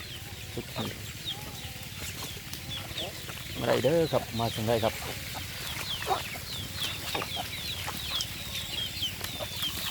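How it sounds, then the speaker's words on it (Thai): A busy flock of over a hundred young chickens clucks and chatters, with someone talking over them in Thai and a brief louder burst of fowl calls midway. "ไก่กระสาบร้อยกว่าตัวเลยครับเป็นไก่น้อยเนี่ย"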